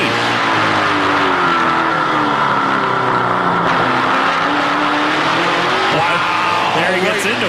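Race cars in a 2009 NASCAR Camping World Truck Series 300 race roar continuously around the track with steady engine drone and shifting pitch, under ongoing commentary.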